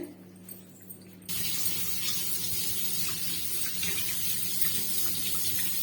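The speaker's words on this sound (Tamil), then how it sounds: "நல்லா ஒரு 2 டம்ளர் தண்ணி ஊத்தி நல்லா வாஷ் பண்ணிட்டு" Water abruptly starts running and pours steadily, a close continuous splashing stream like a tap filling a vessel, poured to wash paneer.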